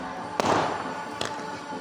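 Firecrackers going off during Uttarayan, the Makar Sankranti kite festival: two sharp, fairly close bangs a little under a second apart, the first louder, over a steady outdoor background hum.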